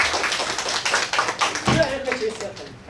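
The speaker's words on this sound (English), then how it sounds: "let's give him one last round of applause to say thank you" At the close of a university teaching talk, listeners give a final round of clapping, a patter of sharp claps that thins out midway while voices start talking over it.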